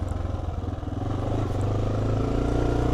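A 2025 Honda XR650L motorcycle climbs uphill in first gear, its single-cylinder engine thumping close and loud, revs rising in the first second and then holding a steady high drone.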